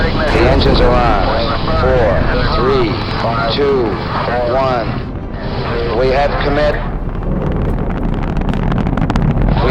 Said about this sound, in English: We have ignition sequence start. The engines are on.